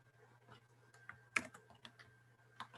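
Faint typing of an ID number on a computer keyboard, a sparse run of soft key clicks with one sharper tap, over a low background hum, without speech.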